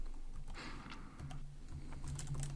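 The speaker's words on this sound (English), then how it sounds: "So I'm going to type here Alex" Quiet, close tapping on a computer keyboard while entering code, irregular bursts of keystrokes with short pauses and a faint low hum beneath, no voices.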